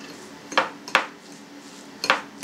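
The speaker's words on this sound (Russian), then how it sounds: "Хорошенько разомнем наш творожок с солью и с чесночком" A spoon mashes and stirs cottage cheese with salt, garlic and herbs in a bowl, making three or four separate clinks and scrapes, close and moderately loud.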